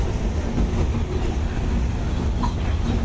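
A crowded passenger train runs across the new Jamuna rail bridge, heard from its roof as a loud, continuous rumble with dense wheel and carriage noise and rushing air throughout.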